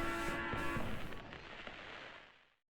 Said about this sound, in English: Fireworks sound in the background.